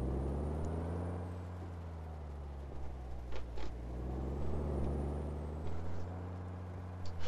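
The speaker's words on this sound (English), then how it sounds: "Handbrake on, wipers off." A supersized Kenworth truck hauling a 75-ton load in Euro Truck Sim 2 idles with a deep, steady engine drone in the rain, broken by short bursts of air brake hiss midway and at the end.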